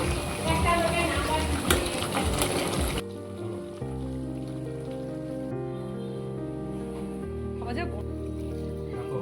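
Hot water pours into a simmering mutton curry with a loud splashing gush for a few seconds, then it stops and voices talk quietly over a low background.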